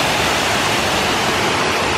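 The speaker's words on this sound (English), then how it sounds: "Ooh, ooh, look at this waterfall. Ooh, a little mini waterfall." A small waterfall near Ithaca, New York rushes with a steady, dense broadband hiss, close and loud with no pauses, alone without voices.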